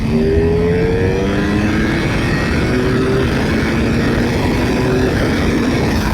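A Ducati Panigale V4R motorcycle accelerating hard in second gear on a circuit, its engine note climbing steadily in pitch as revs rise, loud and close over heavy wind rush, with no talking.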